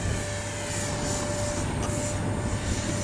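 Freewing 70mm Yak 130 RC jet taking off, a steady loud electric ducted-fan whine and rush that holds level throughout with no talk.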